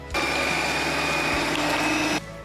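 Electric meat grinder mincing chunks of onion together with meat for Kyiv-style cutlets, a steady loud motor whine with a high tonal hum running continuously for about two seconds, starting and stopping abruptly.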